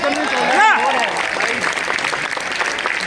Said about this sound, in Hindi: एक बार अपने लिए दमदार तालियां बजाइए